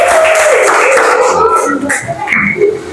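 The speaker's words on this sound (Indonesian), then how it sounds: "Kita kasih tepuk tangan." A classroom of children claps for a group of classmates, a loud, ragged burst of many small hands close by, mixed with lively young voices and some squeals throughout.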